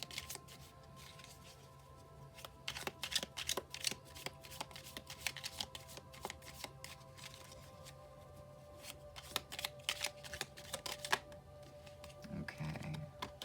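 Tarot cards being shuffled by hand, a run of crisp riffling snaps and soft flutters in quick irregular bursts, close and fairly quiet against a faint background hum.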